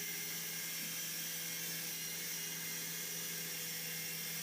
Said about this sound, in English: It's a nice helicopter too,